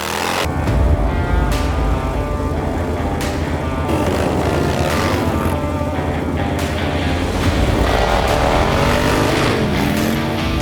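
A Harley-Davidson motorcycle engine runs in a loud, steady, close-up rumble, mixed with a broad rush of wind noise throughout and no letup.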